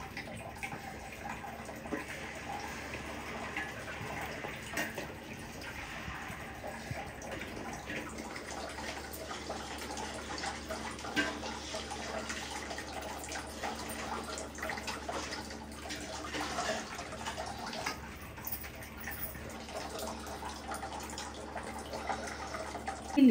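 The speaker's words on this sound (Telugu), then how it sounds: "మనం వాటర్ పోసుకొని కలుపుకోవాలి" Water poured into a sugar-based laddu mixture and stirred makes a soft, continuous watery trickle and swish, fairly quiet and steady throughout with no talking.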